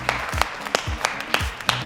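Applause greets the 200th episode of a Korean weekly film and entertainment show: a few sharp, evenly spaced claps or hand hits stand alone over a quiet background, with no voices.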